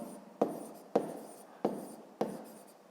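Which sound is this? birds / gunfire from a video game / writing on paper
writing on paper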